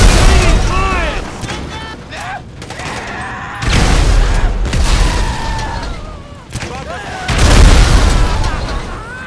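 Grenade blasts in GTA V: three heavy booming explosions spaced a few seconds apart, each a loud broadband burst, with excited shouting voices over and between them.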